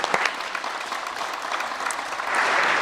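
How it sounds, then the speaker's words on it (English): Members of a legislature applaud visiting students, a dense sustained round of clapping from a large room, loud and even throughout and swelling slightly toward the end, with no speech over it. "I'd ask all members to join me in giving a big round of applause to these wonderful young people seated up there."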